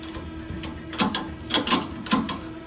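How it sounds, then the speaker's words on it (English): A rifle action being screwed by hand onto a barrel during chambering of a custom 25-06 Remington build: a few close, dry metallic clicks and scrapes in irregular bursts, with no talking. "We're going to go on there and screw in this action."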